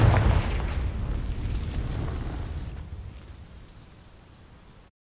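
A Confringo fire spell bursts into a loud explosion in Hogwarts Legacy, followed by a roaring, crackling rumble that fades steadily over about four seconds.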